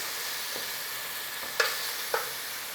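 Onions, garlic and ginger fry in a pan with a soft constant sizzle, broken by two sharp spoon taps against the pan near the end.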